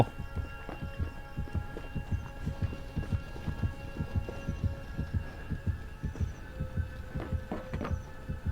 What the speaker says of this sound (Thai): เวลาที่ฆาตกรใกล้เราเนี่ยนะครับ มันจะทำให้หัวใจเราเต้นแรงนะเป็นการแจ้งเตือนนะครับ